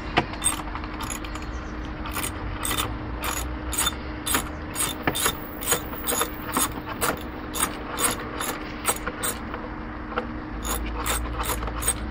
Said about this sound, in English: Ratchet, we're gonna socket 10 mil.